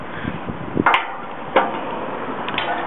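A hammer taps on a rusted steel fire escape tread with about four or five sharp, irregular metallic knocks at close range, separated by short pauses.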